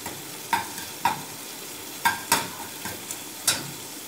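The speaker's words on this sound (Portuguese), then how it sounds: "Deixa o alho refogar um pouquinho." Garlic sautés in a pan while chicken cooks for a free-range chicken dish, giving a soft sizzle broken by about eight sharp scraping clicks and taps of stirring, spaced irregularly and fairly close.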